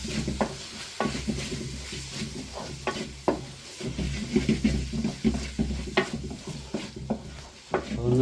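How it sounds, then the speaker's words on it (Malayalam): Sauce with black pepper powder is stirred in a hot pan, a close sizzle with repeated rhythmic scrapes and knocks of a spoon against the metal pan. "നല്ല ഇളക്കി കൊടുക്കാം."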